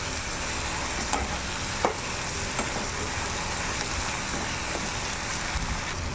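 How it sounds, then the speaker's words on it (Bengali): Garlic with onion and chilli frying in a pan with paste, salt and turmeric for a dried fish curry with stem vegetables and potatoes: a steady, even sizzle with a few light clinks of stirring, no voices. "রসুনটা আমার ভাজা ভাজা হয়ে যাচ্ছে"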